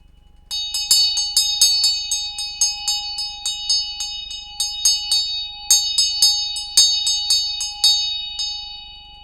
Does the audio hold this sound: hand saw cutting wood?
no